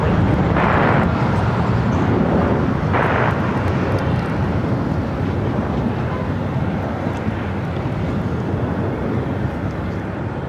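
An American Airlines airliner taking off at LAX, a loud sustained jet roar with broad rumble and wind buffeting, fairly close and fading slightly over time.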